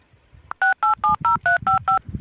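A mobile phone keypad is dialed, producing seven crisp, evenly spaced DTMF beeps in quick succession, loud and close, with faint background rustle around them.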